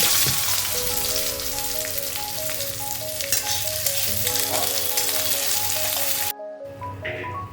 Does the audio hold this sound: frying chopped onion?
yes